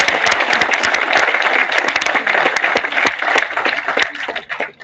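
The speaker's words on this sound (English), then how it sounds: "please give a huge round of applause for all" An audience applauding at a corporate event, dense and loud clapping that carries steadily from start to finish before tapering off at the very end.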